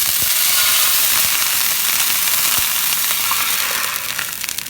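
Water poured into a hot pan for a sweet Bicol snack, giving a loud, steady close-up sizzle and hiss that holds without a break and eases slightly at the end.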